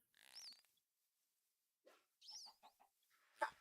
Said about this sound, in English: These birds are going to be a pain.